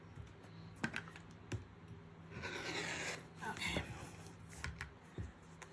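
Rotary cutter blade slicing through quilting cotton along a ruler for a Kimberbell Sweet Land of Liberty pillow, a few short scraping cuts and clicks close by with light handling noise between strokes.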